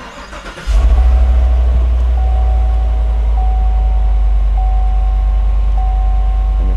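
A 2015-2020 GMC Yukon/Denali or Chevrolet Tahoe/Suburban engine cranks briefly and fires up, then settles into a steady, loud, low idle rumble with a faint high electronic tone over it.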